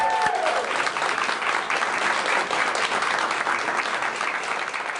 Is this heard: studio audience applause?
yes